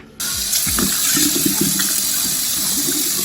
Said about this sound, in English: And then I'm just gonna wash it off.